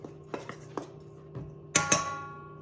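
A spoon clinks and scrapes against a bowl while mixing dry dog-treat ingredients such as rolled oats, giving a few sharp knocks followed by two brighter ringing clanks near the end, close and fairly quiet.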